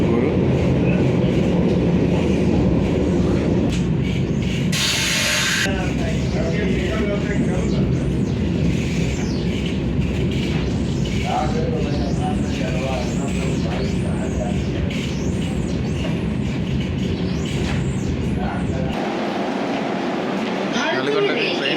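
A Vande Bharat train runs and pulls into Nalgonda station, a loud continuous rumble of wheels and carriage noise, with indistinct voices and talk inside the coach.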